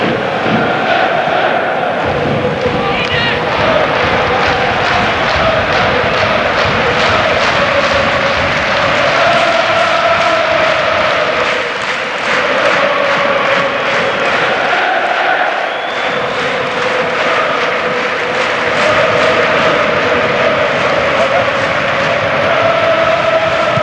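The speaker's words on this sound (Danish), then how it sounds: "I øjeblikket så er det altså FC Københavns tilskuer, man kan høre mest af" FC København supporters chanting in the Parken stadium during a UEFA Cup match against Djurgårdens IF, a loud, sustained wall of massed voices with rhythmic swells that never drops away.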